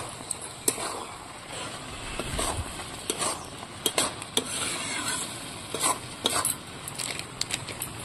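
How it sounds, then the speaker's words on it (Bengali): Egg dal with scattered egg bhujia, green chillies and garam masala sizzles in a pan as a spoon stirs it, giving a continuous frying hiss and irregular clinks and scrapes against the metal. "এবার একটু ভালো করে নাড়াচাড়া দিয়ে নেব।"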